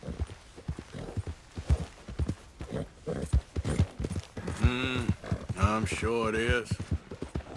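Horse hooves clip-clopping in Red Dead Redemption 2, a steady walking rhythm heard close under a conversation between a man and a woman.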